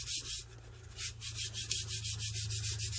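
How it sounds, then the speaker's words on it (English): Burnishing a tumbler's adhesive-sprayed surface by hand, a dry scuffing rub repeated in quick short strokes over a steady low background hum, fairly close. "I'm just going to keep burnishing around."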